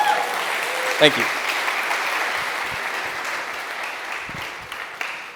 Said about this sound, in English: So, was that applause?